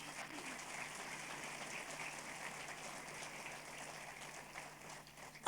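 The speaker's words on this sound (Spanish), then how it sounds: "Dale un fuerte aplauso a Jesús" A church congregation at a service gives sustained applause, a soft, diffuse wash of many hands clapping at a distance, steady and fairly faint throughout.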